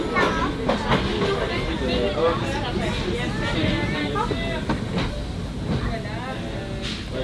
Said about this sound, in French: c'est la même locomotive, c'est la locomotive à vapeur